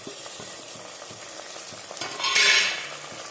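Tomatoes, chopped coriander and green chillies frying in oil as they are stirred, a steady close sizzle with soft scraping strokes of a spoon in the pan, swelling briefly louder near the end.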